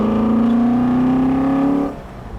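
An Alfa Romeo customer car with a loud, steady engine drone that holds a rising pitch, then abruptly cuts off into a quieter, rougher tone as it downshifts, heard close and with no talk.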